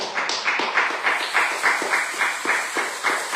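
Congregation at a Pentecost service applauding the Lord, with steady rhythmic clapping in even beats, moderately loud and close, with no talk.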